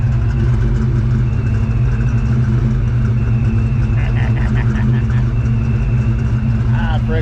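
A warmed-up Ford Mustang SN95 GT V8 idles loudly and close by, its deep, continuous rumble holding steady throughout.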